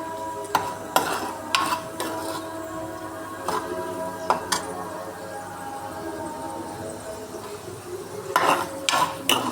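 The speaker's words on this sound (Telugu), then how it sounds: "పచ్చిమిర్చి అంతా వేగాలండి." Green chillies frying in a pan, a steady low sizzle broken by repeated sharp clinks and scrapes of a spoon stirring against the metal, close and moderately loud, with no talking.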